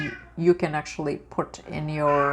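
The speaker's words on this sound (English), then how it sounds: "That's my cat." A pet cat meows several times indoors, short close cries that are mixed with a person talking over them.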